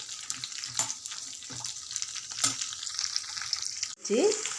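Cut green chillies fry in hot oil in a pan with a steady bright sizzle, broken by a few clattering stirs and a short louder splash near the end.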